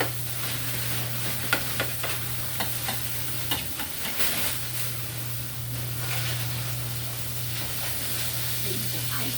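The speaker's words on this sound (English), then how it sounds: "Steam frying. They're cooking with steam." Small cheeseburgers steam-fry on a griddle with a constant loud sizzle and hiss, broken by occasional soft clicks and pops, with no talking.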